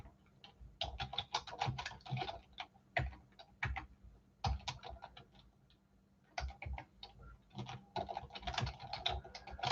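Typing on a computer keyboard, with rapid bursts of close, crisp key clicks broken by short pauses.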